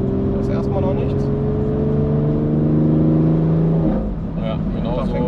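A 750 hp BMW X3M Competition accelerates with a steady, loud engine drone and whining, rising gear tones heard from inside the cabin, with a shift near the end and voices talking over it.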